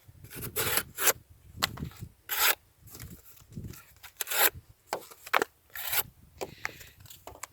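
A Kansept Hellx knife slices through cardboard in a series of about a dozen short, rasping strokes, each separated by brief pauses, heard up close with no talking.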